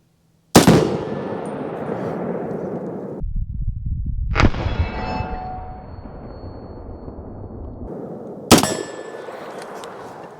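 Three separate .30 carbine shots from an Auto Ordnance M1A1 Paratrooper strike steel targets at 25 yards. Each loud crack is followed by a ringing metallic clang, with a few seconds of outdoor background between shots.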